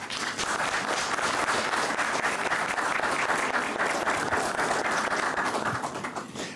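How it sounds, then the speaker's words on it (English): An audience at a conference session on persecuted people gives a steady, dense round of applause, moderately loud and continuous for several seconds without talk. "I think all of us owe Hungary a massive round of applause"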